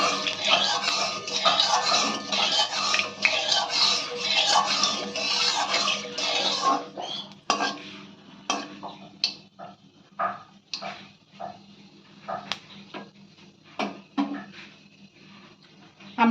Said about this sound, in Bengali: আমরা ফোড়নটা ভালো করে ভেজে নিয়েছি